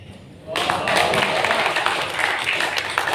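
Audience applause at a Hindi-Urdu poetry recital, breaking out abruptly after a recited couplet and continuing as steady, loud clapping from a large crowd.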